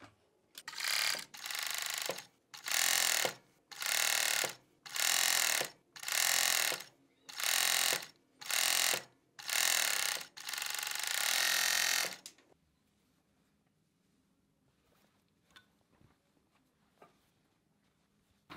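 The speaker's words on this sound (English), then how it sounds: "And as I serge, I'll be trimming off 1/8 of an inch." A 4-thread Jack overlock serger sewing a sweatshirt sleeve seam while trimming the edge, running in about nine loud close bursts before one longer run, then falling to quiet handling noises.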